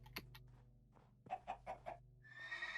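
A horse neighs in the Minecraft video game, a series of short whinnying bursts at moderate loudness over a steady background hum, followed by a brighter sustained tone.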